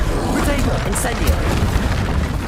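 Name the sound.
Incendio fire spell effect in Hogwarts Legacy video game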